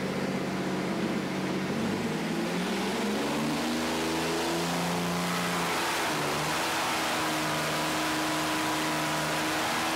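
A supercharged 4.3-liter Chevy V6 from an Astro van, carbureted with a performance cam and TorqStorm blower, revs hard on a dyno, its loud sustained roar sweeping up in pitch and holding at high rpm for the full stretch.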